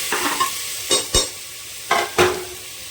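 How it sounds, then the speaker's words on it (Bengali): Potato, onion and tomato frying together in a pan, with several distinct scraping stir strokes over a soft, steady sizzle, close and fairly loud. "আলু, পেঁয়াজ, টমেটো একসাথে ভাজা হতে থাক"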